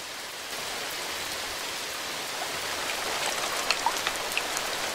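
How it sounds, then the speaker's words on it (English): Steady rain in a video game patters softly and evenly, with a few distinct drops tapping near the end. "you can hear a little pitter-patter of the rain"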